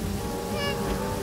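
A cartoon cat gives a single short meow over busy background music and ambience.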